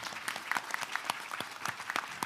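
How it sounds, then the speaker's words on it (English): Audience applause at a bio summit, a steady spread of many hands clapping with sharp individual claps standing out, moderately loud and continuous throughout the short burst. "If we can give everybody a final round of applause"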